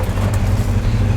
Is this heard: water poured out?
no